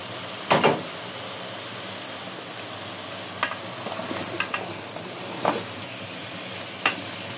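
Vegetables are stirred into fried spice paste in a pan, a soft continuous sizzle with a few sharp utensil knocks and scrapes spaced across the stretch, close and with no voices.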